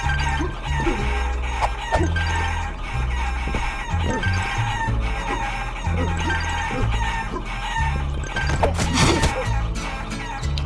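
A chicken in the video game Guacamelee clucks and squawks repeatedly over looping game music, with a few sharp crashing hits scattered through the run.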